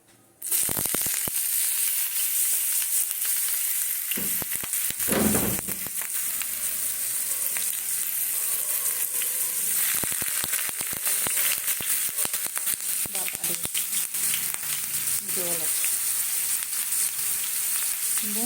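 Onions frying in hot oil give a loud, steady sizzle with crackling pops throughout, close up, with a few brief stirring bursts and no talk.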